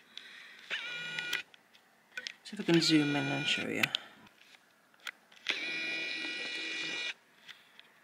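A malfunctioning printer in a sticker design studio runs in uneven bursts of mechanical whirring and clicking, stopping and starting, with someone talking in between.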